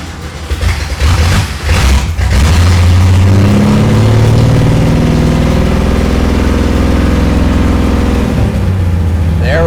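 A 1965 Ford Mustang engine catches after a short cranking burst, then settles into a loud, steady idle with rising and falling harmonic tones as it is given more gas.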